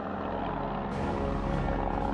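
A patrol plane's engine drones overhead in a steady, loud, close roar that swells slightly as it passes, with no speech.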